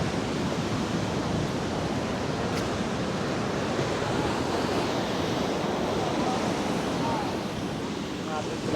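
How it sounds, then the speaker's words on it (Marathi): Rough sea waves crash at Eco Beach in Murdeshwar in a loud, continuous roar of surf, with wind buffeting the microphone throughout. "समुद्र खवळलाय. लाटा जोर जोरात येत आहेत."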